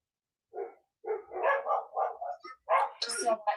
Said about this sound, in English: could you bring your dog in?